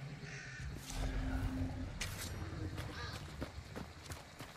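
Crows caw in the video game Hunt: Showdown, several harsh calls scattered over a few seconds amid game noise and a voice talking over them.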